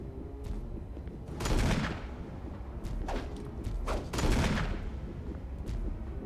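Gunshots in Resident Evil HD Remaster, a few heavy, booming shots fired one at a time with echoing tails, two of them especially loud, over a low ambient hum.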